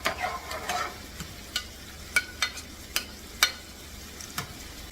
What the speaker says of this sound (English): When the oil is hot, you add your onion,